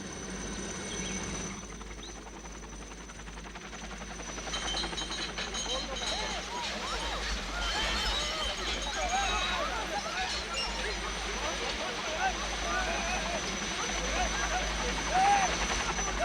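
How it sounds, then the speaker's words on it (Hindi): A helicopter flies low over a residential area, its steady, rumbling rotor and engine noise continuous and fairly loud throughout. "कितना शोर कर रहा है। रिहायशी इलाकों के ऊपर हेलीकॉप्टर उड़ाना बैन कर देना चाहिए।"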